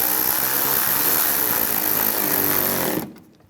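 A power driver runs steadily, tightening a screw on a Ford Explorer bumper cover, loud and close for about three seconds before cutting off abruptly, with no talking.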